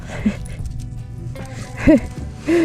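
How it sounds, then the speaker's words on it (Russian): A pet dog on a sea-ice fishing trip gives three short, high whimpering yips, spaced through a brief stretch over a low background rumble. "Да, моя собачка, да, моя собачка, моя собака хорошая."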